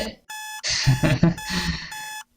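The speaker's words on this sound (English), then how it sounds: "our alarm just had to ruin this sentimental moment" An alarm clock rings in loud repeated electronic bursts, with a short gap between bursts, heard up close and alone.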